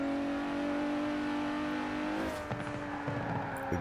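A turbocharged Mercedes in Forza Horizon 4 accelerates hard, its engine tone climbing steadily and loud, then a sharp gear change drops the pitch before it pulls again with a fainter tire squeal.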